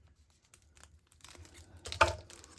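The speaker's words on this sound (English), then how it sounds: "Now you just want to cut your plastic." Scissors snip through plastic wrapping around candy-wrapped craft beads, with quiet crinkling and faint handling rustles before one sharper cut near the end, close and soft.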